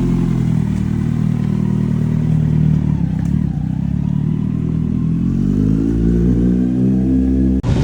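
A big Kawasaki Z9 motorcycle rides away with a steady, loud engine drone that rises in pitch as it accelerates, ending in a sudden cut near the close.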